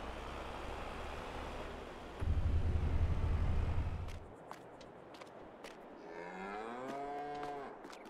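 Cows on a farm in the video game Farming Simulator 22, one lowing moo rising near the end after a stretch of low rumbling machine-like noise and a few soft knocks.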